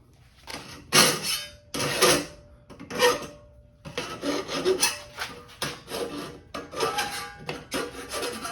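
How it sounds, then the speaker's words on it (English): Hand file rasping on metal in a series of separate scraping strokes, roughly one per second at first and then quicker and denser, close and moderately loud with no talk. "Hit that with a file and call it good"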